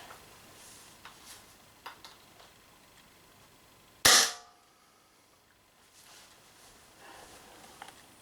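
An Umarex TC68 CO2 air gun lets off a single sharp crack in the middle, loud and close with a short hiss trailing it, surrounded by quiet ticking and handling clicks.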